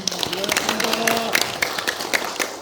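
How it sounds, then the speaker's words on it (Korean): An audience at an academic seminar on the Yongsusaji temple site in Hongcheon applauds the professors, scattered claps sounding in a loose patter beneath someone speaking. "우리 5분의 교수님들한테 박수 한번 부탁드리겠습니다"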